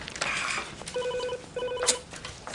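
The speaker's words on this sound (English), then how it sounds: "is that your phone or is that mine?" A telephone ringing in a police drama, two bursts of electronic ring tones heard at moderate distance, with faint background noise and brief sounds between rings.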